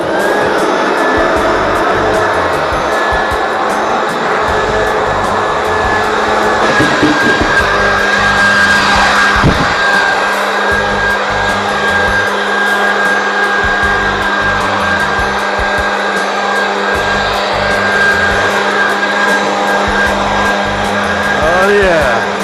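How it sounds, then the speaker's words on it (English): Loud, continuous roar of a blower clearing debris out of a pontoon boat during restoration, a steady whooshing drone that holds at full strength with small surges throughout. "blow everything out the sides, the front, the back, whatever it takes."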